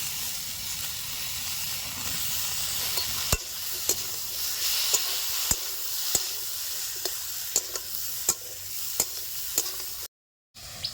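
Spice paste frying with drumsticks in a pan, a steady close sizzle and hiss with repeated sharp scrapes of a spoon stirring, briefly cutting out near the end.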